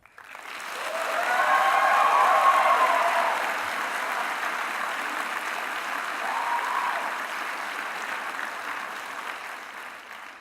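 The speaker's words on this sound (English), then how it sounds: "How about now we give a big round of applause to everyone who helped get you to this moment." Audience applause at a Mohawk College convocation, a large hall of clapping that swells quickly, peaks, then settles into a sustained, slowly fading ovation.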